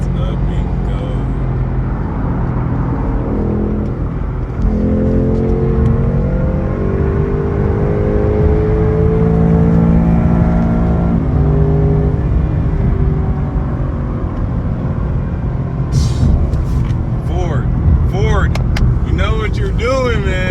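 A car with a 10-speed transmission downshifts while its engine revs, rising and falling in pitch, over a steady engine drone as someone talks over it throughout.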